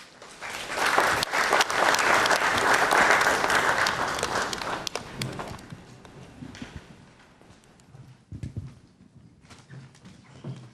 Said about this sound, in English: I must say I was quite disappointed in the applause.